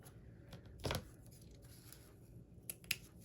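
Scissors snipping paper for a Christmas house craft, a few short crisp cuts, one firmer snip followed by two small clicks, faint and close in a quiet room.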